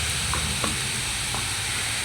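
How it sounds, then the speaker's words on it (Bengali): Pointed gourd sizzles steadily in hot oil with salt and turmeric while cooking sorshe potol, a Bengali mustard dish. The frying hiss is continuous and close, with a few faint stirring clinks and no talking. "এটা একটু ভাজা ভাজা হবে।"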